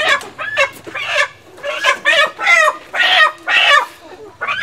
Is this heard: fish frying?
no